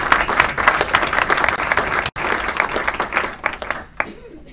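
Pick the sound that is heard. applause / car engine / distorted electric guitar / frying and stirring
applause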